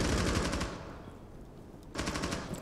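FMJ9 gun firing in a competitive video game: two rapid, loud automatic bursts, close and dense, separated by a brief lull.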